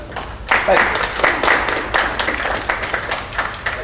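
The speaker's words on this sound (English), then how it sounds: "All right, we'll take the applause." Scattered audience clapping after a talk, fairly close and uneven, swelling after a moment and then thinning into irregular individual claps, with some talking mixed in.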